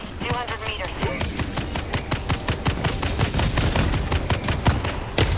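Repeated sharp shotgun blasts in the co-op shooter Helldivers 2, a fast regular volley of loud cracks with other combat noise beneath, a voice briefly heard among the shots.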